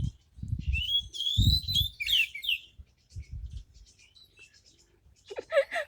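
Bright bird chirps and whistling calls ring out outdoors, partly overlapping low murmuring voices nearby.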